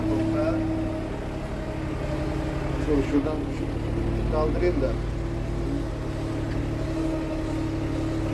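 An Erkunt tractor engine runs at a steady low drone, close and continuous, under someone speaking briefly.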